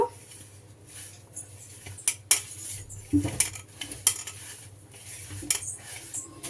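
Spice powders, including turmeric, coriander powder and garam masala for fish fry, stirred together in a bowl with a spoon, giving irregular metallic clinks and scrapes close by, with sharp taps scattered through the stirring.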